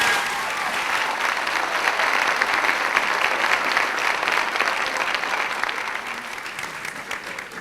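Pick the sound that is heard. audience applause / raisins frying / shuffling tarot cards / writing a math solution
audience applause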